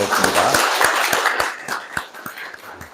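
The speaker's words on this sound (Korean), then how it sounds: "우리 박수로 환영하겠습니다" A church congregation at a Sunday service claps to welcome a newly registered member, steady applause with distinct individual claps, moderately close and fading slightly toward the end.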